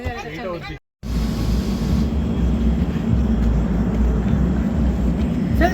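A passenger train starts to move, then a steady, heavy rumble rolls on continuously, a low mechanical roar after a brief opening moment of voices.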